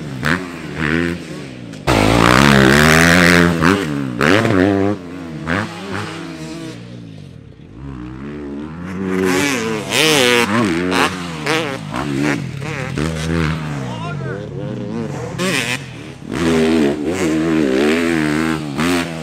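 A motorcycle on a race track rides laps, its engine revving up and down in loud, close bursts with rising and falling pitch through repeated accelerations.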